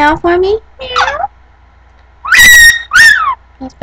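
A pet bird gives short, loud, rising and falling meow-like calls in imitation of a cat, in separate bursts with quiet gaps between them.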